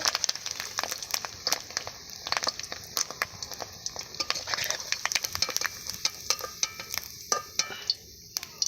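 Bitter gourd frying in a pan gives a steady, close crackling sizzle, with sharp spatter pops and stirring scrapes running all the way through. No one speaks.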